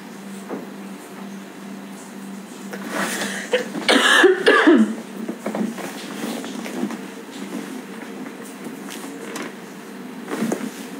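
A person coughs briefly and fairly close during a TikTok live stream, with a low room hum and faint background chatter around the cough.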